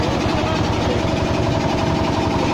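A 1970 Belarus 52 HP tractor engine runs steadily up close, giving a loud, continuous knocking chug with a rough, even rhythm and no talk over it.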